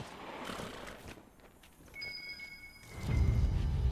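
A horse snorts and shuffles its hooves in the video game Dragon Age Inquisition amid a two-tone electronic chime, then a heavy low rumble of movement builds at the end.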